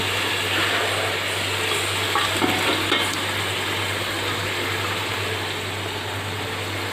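Mutton pieces frying and being stirred into a tomato masala with coriander and mint for a dum-style biryani: a steady, fairly soft sizzle with occasional scraping and stirring noises close by.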